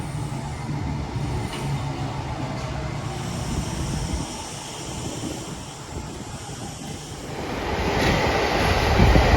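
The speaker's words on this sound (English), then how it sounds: "Now this is what you call a train." A train rumbles past close by on the Chiltern Main Line between Banbury and Princes Risborough with a steady roar and wind noise, growing louder toward the end.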